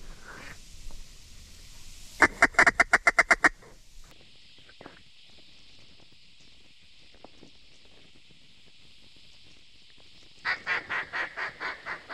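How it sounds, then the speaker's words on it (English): Gadwall ducks call from a small slough during a duck hunt: a quick run of loud, evenly spaced calls, then a long quiet stretch, then another rhythmic burst of calls near the end. "still a few birds flying around, but seems like mainly gadwalls now"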